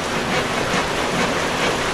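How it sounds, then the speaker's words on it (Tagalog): Steady rain falls during stormy, windy weather, a dense, even hiss that holds at a constant level throughout, with no voices. "Ngayon, umulan na naman."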